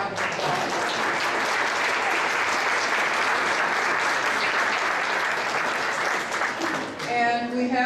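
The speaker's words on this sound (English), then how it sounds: "So maybe we could just give them a round of applause." Sustained applause from an evening audience at a film festival, dense and steady clapping filling nearly eight seconds, tapering briefly near the end as a voice starts to speak.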